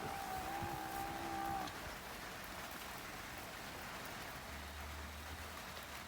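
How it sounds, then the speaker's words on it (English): Steady rain patters on a surface in a continuous hiss, with a drawn-out calf moo near the start, on a small farm during weaning. "rainy day."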